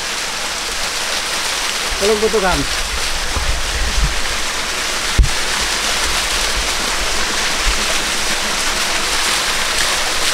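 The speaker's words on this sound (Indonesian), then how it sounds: "Inilah salah satu air terjun yang ada di" A waterfall at Teluk Butukan pours in a steady, loud broadband rush, with a person speaking briefly over it and a sharp knock partway through.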